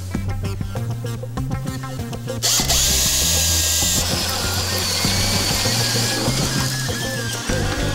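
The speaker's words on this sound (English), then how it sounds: "We're gonna drill right through there at this point" A power drill with a 2 9/16 inch bit boring through wood in an old house, whining loud and close, then deepening into a steady grinding drone as it bites in.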